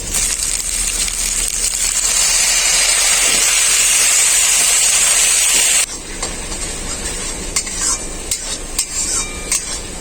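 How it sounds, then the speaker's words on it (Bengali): Water poured into frying masala with tomato in a hot pan, a loud hissing burst of steam and sizzle that holds strongly, then drops to a softer bubbling simmer with light clinks of stirring. "এখন আমি ভালো করে মশলাটা কষার জন্য অল্প একটু জল দিয়ে দেবো"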